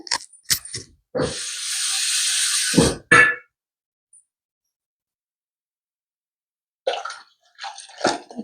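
Water poured into a cooking pot gushes in one steady stream lasting under two seconds, framed by short clattering knocks of kitchen utensils and a long silent gap.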